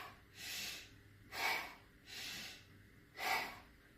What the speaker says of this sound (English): I go to in my nose and out my mouth at the same time